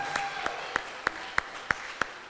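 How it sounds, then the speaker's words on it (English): Applause at a law firm's kickoff rally with a steady crowd patter underneath and one clear, rhythmic clapper standing out in sharp, evenly spaced claps about every third of a second. "Give Amber and her entire team at the Mostyn Law Firm a warm round of applause"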